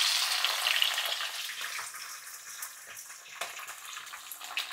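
Cumin seeds crackle and sizzle in hot oil in a pan, a steady dense hiss that is loud at first and eases slightly, with a few small pops and no voices.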